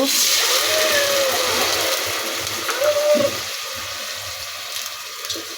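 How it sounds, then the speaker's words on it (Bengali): A little water is poured into a pan of fried onions for a sour puti fish and black eggplant curry, giving a close, loud splashing rush and hiss that settles into a gentler bubbling simmer. "আমি এখানে সামান্য পানি দিয়ে দিব।"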